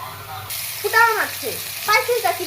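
Onions and green chillies frying in oil in a wok, a steady sizzle running under voices talking throughout.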